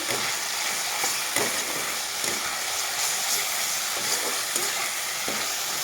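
Banana flower curry with chili is sautéed in a pan, a dense, even sizzle with soft periodic stirring scrapes throughout.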